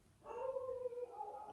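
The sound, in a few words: dogs barking and howling in the background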